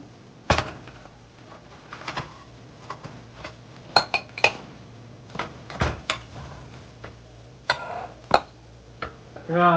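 Cooked amaranth leaf dal fry being moved from a pan into a bowl at home, with scattered clinks and scrapes of a utensil against the cookware, some sharp, with quiet gaps between them.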